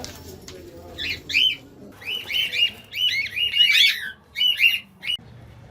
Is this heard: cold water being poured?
no